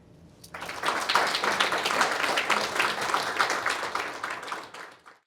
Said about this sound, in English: please join me in welcoming Dr. Fedorenko with a big round of applause